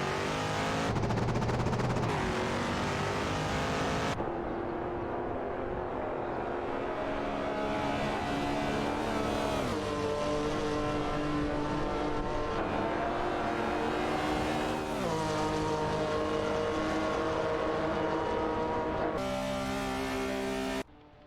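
Race cars in an AI racing video game roar continuously, engines rising and falling in pitch as they accelerate and shift, loud and unbroken throughout with brief drops between gear changes.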